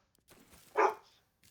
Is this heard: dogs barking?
yes